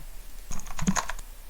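A quick burst of keyboard typing, several crisp key clicks in rapid succession, close and fairly quiet.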